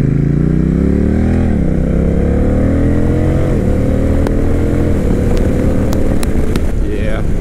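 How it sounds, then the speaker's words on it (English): Honda Rebel 1100 motorcycle fitted with a Kaufman's Thunder exhaust revs up and falls back in repeated deep, rumbling swells, loud and close, with faint ticking and crackle as the throttle drops. "it is what this bike should have sounded like from the factory. Nice and deep with a little burble here and there."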